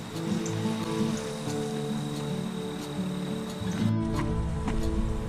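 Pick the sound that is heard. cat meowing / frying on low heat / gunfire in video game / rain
rain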